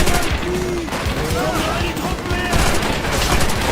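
Rapid gunfire in Call of Duty World at War co-op, steady overlapping shots and battle noise throughout, with voices talking over the fighting.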